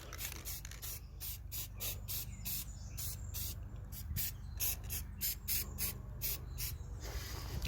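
A spray can hisses in short repeated bursts, a rhythmic series of brief sprays held at a distance while painting a model obstacle, moderately loud with no talking.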